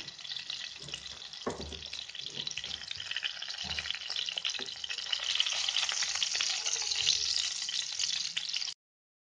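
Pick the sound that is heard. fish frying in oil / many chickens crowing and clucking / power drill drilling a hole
fish frying in oil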